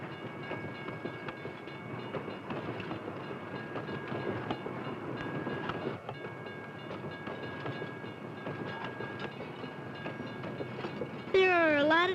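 A freight train rumbles past with steady clickety-clack of wheels on rails and faint squealing tones, ending in a brief sharp sweeping screech.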